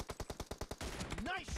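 A rapid burst of about eight evenly spaced gunshots in the PUBG video game, loud and close, followed by a busier stretch of game sound effects.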